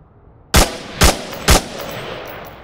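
Three evenly spaced single shots from a rifle in the VR shooter Onward, sharp loud cracks about half a second apart, each with a short decaying tail, with no talk over them.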